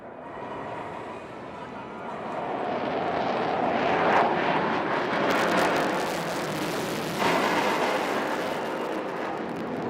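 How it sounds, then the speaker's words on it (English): Jet fighter flying a tail slide at an Indian Air Force air show on Marina Beach, Chennai: a loud, continuous engine roar that swells and surges over several seconds amid crowd noise. "the pilot will now execute a remarkable maneuver called the tail slide"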